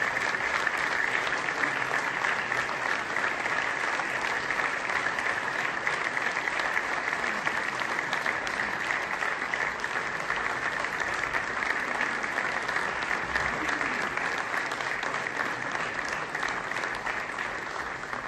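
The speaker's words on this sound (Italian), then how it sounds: "Questo era l'applauso che il Presidente Mattarella ha ricevuto durante il suo discorso" Long, dense applause from a large assembly audience for President Mattarella's speech at the Confagricoltura national winter meeting, unbroken and even from start to finish.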